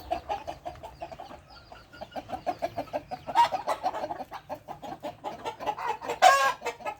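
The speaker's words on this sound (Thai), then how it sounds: "ไก่ร้องไก่ร้อง" Many farm chickens, including fighting cocks, at dusk: a dense, steady stream of near clucking, with two louder crowing bursts standing out midway and near the end.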